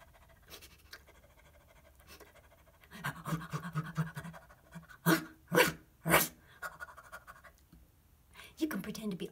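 A person imitates a dog panting, giving a few sharp, breathy puffs in quick succession amid quieter rustling and scratching, with talking before and after the panting bursts.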